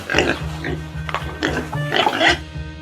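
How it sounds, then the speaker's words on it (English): A farm pig grunts and oinks in a few short bursts over a steady low hum, with what sounds like a faint voice mixed in. "Pig."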